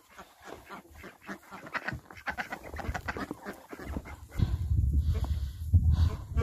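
Ducks quack in a noisy, overlapping chorus that grows louder toward the end, close by, with some rustling around them, on a cold winter day in Michigan.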